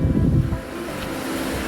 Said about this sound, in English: Wow, it is incredibly windy right now